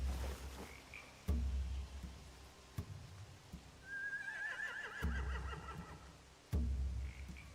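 Tied horses in a camp in The Walking Dead: The Final Season give a drawn-out whinny midway, over a quiet game ambience with several soft thuds and a couple of fainter calls, with no talking.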